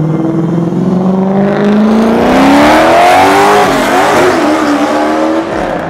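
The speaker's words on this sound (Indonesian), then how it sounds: "Waduh, ada E36 drift." A BMW E36 drifting, its engine revving hard and rising in pitch while tires squeal, loud and close for several seconds with no talk over it.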